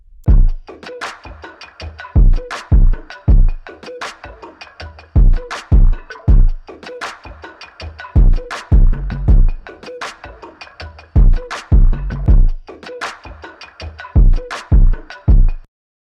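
A heavily distorted electronic beat pulses in repeating bursts, its deep low end throbbing and wobbling under gritty, buzzing tones.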